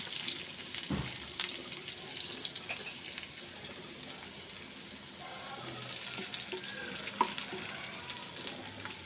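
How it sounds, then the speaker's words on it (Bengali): Two large sliced onions fry slowly in a pan over medium heat to make birista for an egg korma, a soft continuous sizzle with occasional stirring scrapes and a faint splash of water nearby. "গ্যাসের আঁচটাকে মিডিয়ামে রেখে তো হালকা আছে আমি পেঁয়াজটাকে বেরেস্তা করে নেব"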